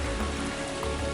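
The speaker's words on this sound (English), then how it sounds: "In fact, it's hailing. It's actually hailing." Hail falls in a steady, dense patter on hard surfaces outdoors beside a parked campervan during a trip through Germany, Luxembourg and Belgium. The hiss and tapping are continuous and close, with no voices.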